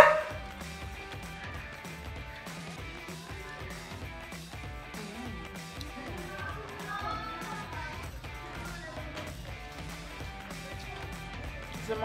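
Outdoors, students nearby imitate dog barking with repeated yipping bow-wow calls, moderately distant and mixed with background chatter.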